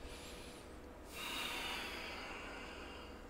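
Deep breathing held in the Urdhva Dhanurasana yoga backbend, a slow airy exhale hissing steadily through the nose, close and soft, with no talk.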